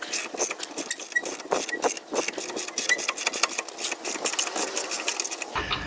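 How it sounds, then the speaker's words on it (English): Hand ratchet works a bolt on a Freightliner truck rear leaf spring, a rapid continuous buzzing of clicks close by, steady throughout and cut off at the end, no talking. "Let's use my ratchet."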